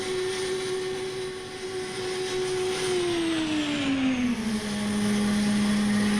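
F-15 jet engine in Microsoft Flight Simulator: a steady, loud turbine roar with a prominent whining tone that slowly glides downward in pitch as the engine spools down, continuous and alone with no talking.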